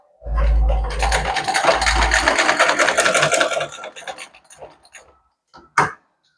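A sewing machine stitches a churidar zip in a close, steady burst of about four seconds, then slows and stops, followed by a few faint handling taps and one sharp knock.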